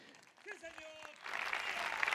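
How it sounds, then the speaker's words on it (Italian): Applause at an international folk festival for a mariachi group begins about halfway through, with a burst of crowd clapping following a brief voice and tonal sounds. "così facciamo un applauso anche al gruppo di mariachi"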